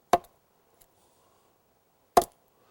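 Two sharp, hollow wooden knocks about two seconds apart, close and isolated against silence, imitating a bull moose's antlers knocking like a woodpecker during a fight.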